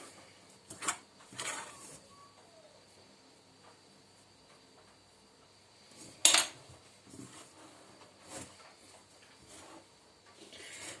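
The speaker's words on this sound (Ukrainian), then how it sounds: "І вже поступово підмішую і цю суміш яєчну і замішую тісто. Спочатку ложкою, а потім рукою." Sparse clinks and soft scraping of a spoon against a bowl as egg mixture is worked into dumpling dough, with intermittent squishy hand-mixing sounds in a quiet room.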